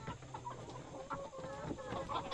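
Native chickens cluck softly and busily while feeding, with several short, faint clucks overlapping close by and no talk.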